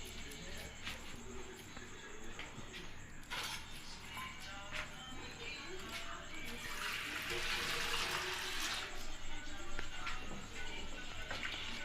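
Water pours into a glass in a home kitchen during cooking, a steady splashing trickle that swells toward the end, with faint background noise.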